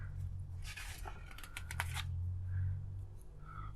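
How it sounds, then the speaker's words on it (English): Adhesive backing being peeled off a sheet for a dolls house wall, a few faint crackling, tearing rustles clustered in the middle over a low steady background hum. "So I'm going to start peeling the back of this."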